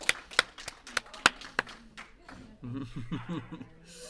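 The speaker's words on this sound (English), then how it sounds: "As you can hear the clapping in the warm room as Team Collins comes off the ice" A handful of sharp, scattered hand claps ring out in a curling club's warm room as the winning team comes off the ice after a tiebreaker, followed by people talking nearby.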